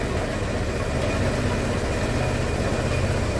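A Piaggio Beverly 300 scooter engine idles steadily right after starting, a continuous close, even low rumble with no voices over it.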